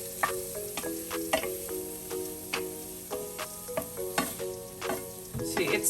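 Onions and garlic sauteing in a rice cooker, a steady low sizzle with sharp ticks and clinks of stirring at irregular intervals, close by.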